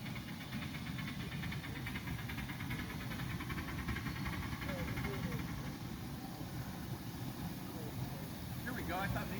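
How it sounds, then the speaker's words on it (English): A locomotive runs along a railroad as a steady, loud, low rumble with a dense hiss on top, unbroken from start to finish, while a voice talks over it. "What an amazing locomotive that is"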